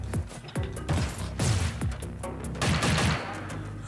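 Enemy gunfire in the video game Orbital Bullet: rapid bursts of sharp shots and impacts fire repeatedly at a steady, loud level throughout, layered over dense game effects.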